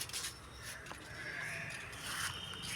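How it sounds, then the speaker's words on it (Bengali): A goat bleats in a wavering, drawn-out cry at moderate distance, set against a steady outdoor background of faint noise. "দেখো এই যে আমার ছাগল"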